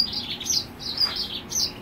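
A Himalayan goldfinch (Carduelis caniceps) gives a quick series of high, thin chirps and twitters, close and fairly clear, repeating in short bursts over a soft background hiss.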